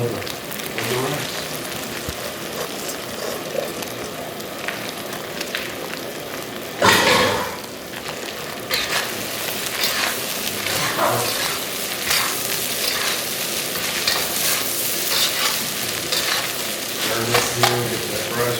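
Cooked rice is stirred and broken up in a hot buttered pan for breakfast fried rice, sizzling continuously with scraping and tossing, plus one louder clatter partway through.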